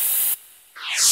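An aerosol insecticide spray can fires two loud, close hissing bursts separated by a short silence, the second rising and sweeping in tone as it sprays.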